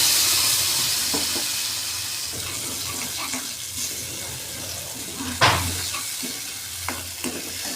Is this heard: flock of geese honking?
no